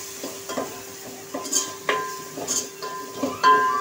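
Spices are stirred into tomatoes frying in a pan for spring masala pasta, giving a soft sizzle beneath repeated scraping and clinking of a spoon against the pan, close by, with no talking.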